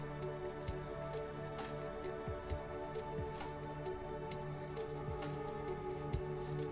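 A watercolor brush is rinsed in water with soft, faint swishing and dripping sounds, quiet and close, continuing without any voices.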